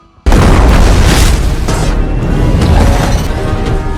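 A loud explosion in a film erupts suddenly after a brief quiet moment, then roars on as a sustained, heavy rumble with crackling debris, filling the whole stretch with no speech.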